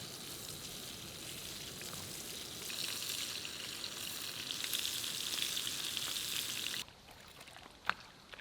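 Smallmouth bass sizzles steadily in a hot pan for a shore lunch beside a lake, a continuous crackling hiss that cuts off abruptly, followed by quiet and a single light clink.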